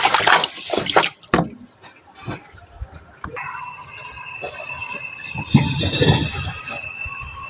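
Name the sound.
water running while washing a cooking pan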